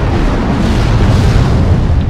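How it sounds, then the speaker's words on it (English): Missile explosions in the MechWarrior Online mech combat game: a dense, continuous rumble of loud booms and blasts with no pauses, heavy and close throughout. "Missiles incoming on me."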